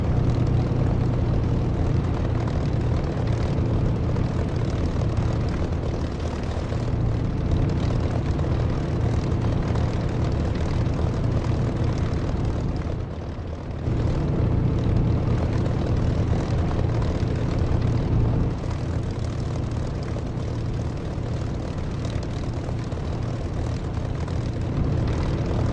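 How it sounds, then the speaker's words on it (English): Propeller aircraft engine in the DCS flight simulator game, a steady loud droning roar that holds for the whole stretch with only slight dips, alone with no voices. "this engine sound is brilliant. It's from Echo 19. If you fly in DCS, have a go."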